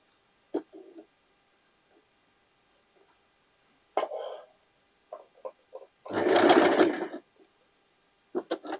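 A sewing machine runs a straight stitch through denim from old jeans, one steady burst of about a second, loud and close, with scattered clicks and handling knocks around it.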